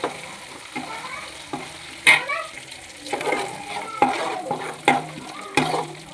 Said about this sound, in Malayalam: കറിവേപ്പില നല്ലതുപോലെ എണ്ണയ്ക്കകത്ത് കിടന്ന് മൂക്കണം.